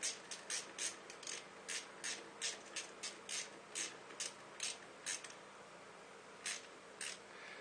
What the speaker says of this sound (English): So now it's just as simple as taking your ratchet